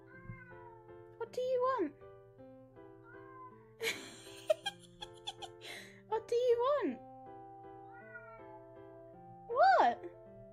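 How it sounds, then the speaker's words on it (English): A pet cat meows repeatedly and insistently, several drawn-out rising and falling cries close by, while a person talks to it over quiet background music. "my cat is meowing the entire time"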